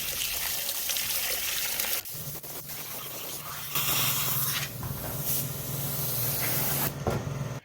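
WD-40 aerosol sprayed in several long hissing bursts to clean out a part of a ported Poulan chainsaw, close and loud with brief pauses between blasts.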